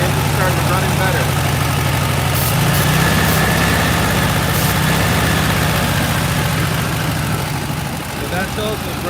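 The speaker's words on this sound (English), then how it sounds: "you can hear that, the engine started running better" Close and loud, a VW Beetle engine idles steadily after a blast of carburetor cleaner near a leaking intake manifold boot, its low rumble smoothing out over several seconds.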